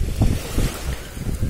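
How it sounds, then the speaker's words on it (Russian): Waves wash on a beach while wind buffets the microphone, giving a rough, surging roar with gusty swells across the short stretch and no clear voices. "Я надеюсь, меня будет слышно от волн, от ветра"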